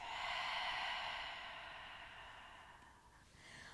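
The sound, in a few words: deep exhale during yoga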